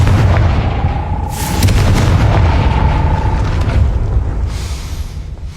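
A Confringo fire spell in Hogwarts Legacy blasts with a loud, sustained booming roar, like rumbling artillery, that fills the whole stretch and swells again midway without pause.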